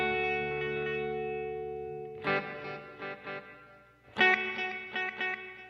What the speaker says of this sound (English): you get those kind of very sputtery rhythmic tones